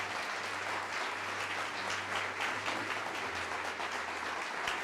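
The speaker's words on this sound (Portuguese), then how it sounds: "vamos aplaudir mais ao nome de Jesus" A church congregation applauds continuously in a large room, a dense wash of clapping with a low hum beneath it.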